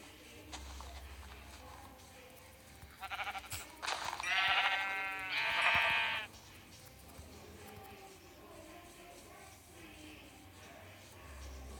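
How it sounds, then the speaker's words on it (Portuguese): Sheep bleat in a survival video game, a few short bleats close together in the middle, fairly loud over a quiet background with faint game ambience and a little soft talk. "Vou matar o ovelha. 3 ovelhas."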